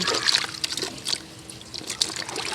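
Potatoes and beans are rinsed under running water, with close trickling, splashing and sloshing in uneven bursts as the vegetables are handled and washed.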